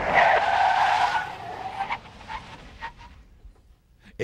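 A police car brakes hard from 50 mph with anti-lock brakes, giving a loud tire skid that fades over the first two seconds into a fainter stuttering squeal as the ABS pulses.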